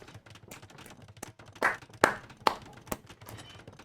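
A few scattered hand claps from a small live audience at an esports grand final, three or four sharp claps spaced apart among quieter taps and room noise.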